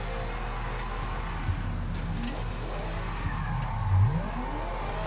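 Car tires skidding under hard braking in the BeamNG driving game, a steady engine drone carrying a rising squeal near the end as the car slides into a corner.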